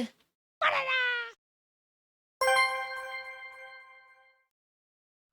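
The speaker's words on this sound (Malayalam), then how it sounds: "ഒരു പൂച്ചക്കുട്ടിയാണ്. നല്ല ക്യൂട്ട് പൂച്ച." A kitten in the 100 Years life simulator video game meows twice, a short mew followed after a pause by a longer, drawn-out cry, both clear and close with no talking.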